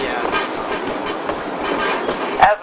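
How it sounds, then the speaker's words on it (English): A train rolls steadily along a mountain railroad grade on a curve in Colorado, giving a continuous rumble with rhythmic clatter and a brief louder clank near the end, heard up close. "we're about to start going down the steepest part of our railroad grade"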